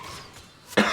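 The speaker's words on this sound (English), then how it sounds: "I've not been coughing until I start recording this video" A single short, sharp cough bursts out near the end after a moment of quiet room tone, close to the microphone.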